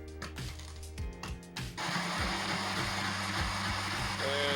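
A Philips VP-931 laserdisc player under repair spins up. A few sharp clicks and thumps come first, then a loud, steady, dense whir with a faint rising whine near the end, heard close and alone.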